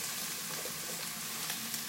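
Eggplant sizzles steadily in a hot frying pan, a soft, even crackling with no voices.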